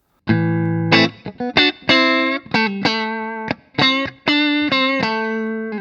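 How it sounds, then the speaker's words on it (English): An electric guitar plays a single-note melodic line through a Hughes & Kettner Ampman Classic amp at low volume, with a clean, somewhat thin tone at moderate level and no voices. "When you have an amp that's not turned up very loud, then you get this thinner sound"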